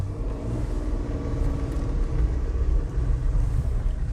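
A car creeps slowly past a line of train cars and locomotives, giving a steady low rumble of engine and tyres close by, with no voices.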